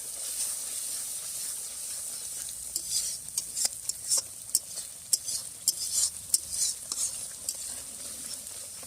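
Fish masala is stirred in a pan for a fish curry, soft frying hiss under irregular scraping and clinking spoon strokes that grow more frequent in the second half, no voices.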